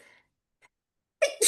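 A single sharp, close sneeze bursts out loudly near the end, following a soft breath and a long near-silent pause.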